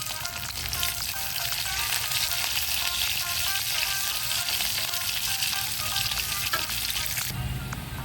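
Onion, garlic and green chili fry in hot oil in a pan for an egg curry, giving a loud, continuous sizzle with occasional stirring scrapes. The sound stays steady throughout and carries no talk.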